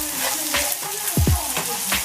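Brown rice fries in a hot pan with a steady sizzle, broken by a few scraping stirs of a utensil, heard up close.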